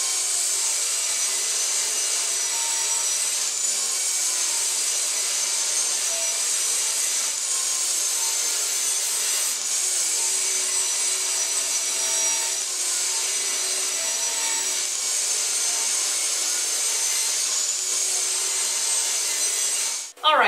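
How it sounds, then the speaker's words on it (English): A power saw rips pallet wood boards to width with a loud, steady, high-pitched whine. It runs continuously for about twenty seconds before cutting off abruptly. "Now we're going to go ahead and rip our boards to the final width they need to be, which is 1 1/4 inches"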